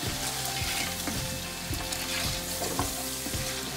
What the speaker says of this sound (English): And give it a quick saute.